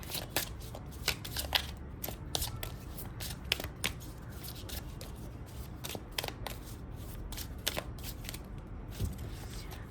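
Tarot cards being shuffled by hand, a steady run of soft riffling flicks and slaps at close range, repeating through the whole stretch with no talking.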